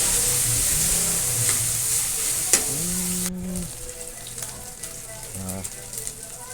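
Onions drop into a pan of frying garlic and beef, raising a dense, close sizzle with stirring scrapes and clinks throughout, and a voice speaks briefly over the cooking.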